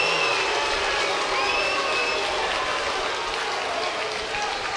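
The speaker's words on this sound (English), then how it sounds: "Crowd chants, Hoosta." Spectators at a 2019 Little League World Series baseball game between New Jersey and Oregon keep up a steady roar of crowd noise, with the chanting of a player's nickname blended into it, while a commentator talks over it.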